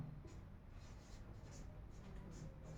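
Chalk or marker scratching across a classroom board in steady, faint strokes, a soft continuous scraping with brief repeated bursts, no talking.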